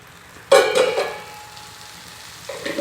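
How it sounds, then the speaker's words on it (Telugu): Mustard seeds tempering in hot oil in a kadai: a sudden loud sizzle bursts in, crackles and fades to a low hiss, then flares again briefly at the end. "ఇప్పుడు నేను ఆయిల్లో పోపేసుకుంటా"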